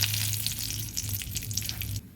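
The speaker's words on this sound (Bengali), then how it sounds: "তেল গরম হলে আমি দিয়ে দিচ্ছি একটা তেজপাতা আর একটা শুকনো লঙ্কাকে ভেঙে" A bay leaf and a broken dried red chilli crackle in hot mustard oil, a brief burst of dense spitting and sizzling with a low hum beneath that cuts off near the end.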